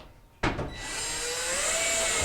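Power driver sets a Phillips screw into the blower housing of a GE dryer: a sharp click, then a steady rising whir that holds at close range.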